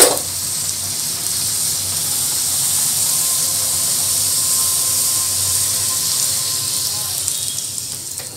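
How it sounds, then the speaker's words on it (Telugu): Poori dough frying in hot oil, a steady close hiss and fizzing sizzle that holds evenly for several seconds, with faint talk briefly in the background. "ఓకేనండి, ఆయిల్ కాగింది, పూరీలు వేసుకుంటున్నాను."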